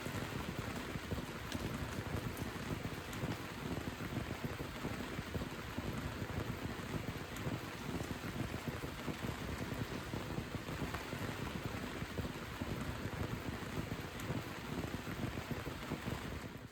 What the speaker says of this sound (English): After a month, we finally have some rain.